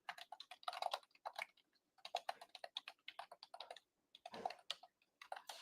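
Rapid bursts of typing on a computer keyboard while entering credit bureau dispute details, clustered keystrokes separated by short pauses, close and fairly quiet with no talking.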